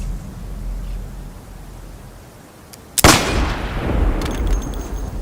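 A gunshot rings out in a Roblox gun testing game, a single loud crack followed by a booming, reverberant tail and some rapid follow-up pops over constant background noise, no talk.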